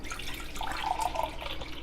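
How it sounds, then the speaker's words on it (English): Water is poured from a cup into a pitcher of freshly squeezed lemonade, a short, faint splashing trickle heard alone for under two seconds. "I think I'm going to add another cup of water"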